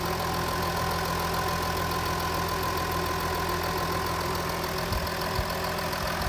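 A Ford F150's 3-liter V6 Powerstroke diesel idles steadily with the hood open, a continuous even rumble with faint clatter heard up close throughout.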